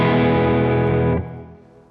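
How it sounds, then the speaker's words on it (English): An electric guitar played through a distortion pedal rings out as one loud, sustained, gritty chord, then is abruptly cut off and leaves a fading tail. "Bill hit a really cool button for me which added some distortion"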